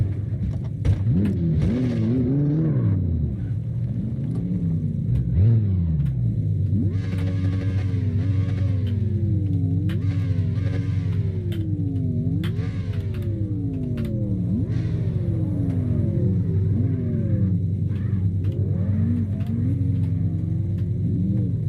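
A Lexus LFA engine in CarX Drift Racing Online revs repeatedly, its high-pitched wail sweeping up and down in quick successive bursts, loud and close throughout, with faint clicking alongside and no talk.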